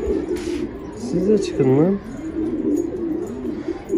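Pigeons of varied colours coo in a loft, a few low throaty burbling calls rising and falling close by, with someone talking over them.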